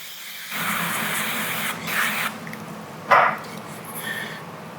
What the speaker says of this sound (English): And spray the other side with oil.